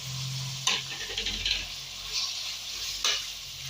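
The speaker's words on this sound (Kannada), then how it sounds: "ಒಂದು 3 ಟೊಮೊಟೊನ ಹಾಕೋತಾ ಇದ್ದೀನಿ ಫ್ರೆಂಡ್ಸ್, ಕಟ್ ಮಾಡಿರೋ." Chopped tomatoes fry in a pan with ginger-garlic for a potato-peas kurma, giving a steady broadband sizzle with a couple of sharper stirring scrapes, close and moderately loud, no voices.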